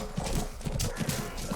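Horse hooves gallop in Mount & Blade battle, a dense, continuous drumming of hoofbeats amid loud combat ambience.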